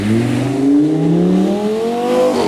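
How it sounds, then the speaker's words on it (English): An Audi R8 sports car engine drones past with a steady, loud tone that climbs in pitch as it accelerates, with no talking over it. "What kind of Audi? R8. What kind of? I think that might be a V8 behind it."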